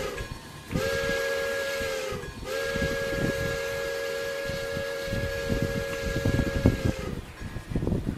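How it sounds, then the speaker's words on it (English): A long, loud steam whistle in a video game, with steady harmonic tones, blows twice over rumbling train noise, the second blast held for several seconds. "And there's the whistle."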